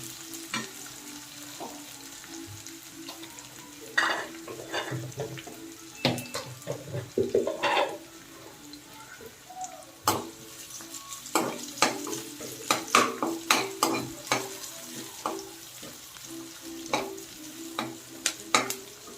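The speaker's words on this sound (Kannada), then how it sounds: "ಒಗ್ಗರಣೆ ಹಾಕಿ ಈರುಳ್ಳಿ ಈ ಥರ ಬಿಡಬೇಕು" Onions sizzle steadily in a hot pan while a utensil scrapes and clatters against it in irregular bursts of stirring, close and fairly quiet.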